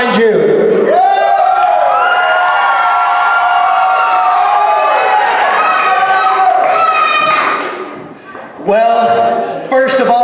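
Loud, sustained cheering and shouting from a wrestling event crowd fills the hall, swelling with whoops and yells, briefly dipping near the end before surging again.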